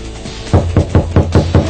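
Six evenly spaced, heavy knocks on a door, loud and close, as a dramatic sound effect over a steady background hum.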